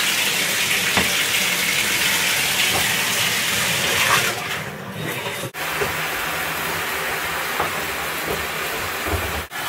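Tap water runs steadily and loudly throughout, filling a tub or sink for a dog's bath, a continuous broadband gush with brief dips.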